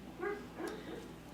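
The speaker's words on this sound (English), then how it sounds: "That's my dog in the background dreaming." A dreaming dog gives a couple of soft, brief whimpers and yips, faint in the background of a quiet indoor room.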